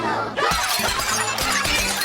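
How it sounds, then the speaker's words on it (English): A glass ball shatters in a loud, bright crash, and a spray of tinkling fragments follows for the rest of the moment. "The glass ball shattered."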